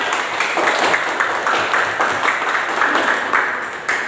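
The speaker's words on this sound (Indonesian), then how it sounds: "Tepuk tangan dulu untuk kelompoknya." A classroom of students applauds a student group after its presentation, with dense, steady clapping from many hands close by that runs throughout and ends abruptly.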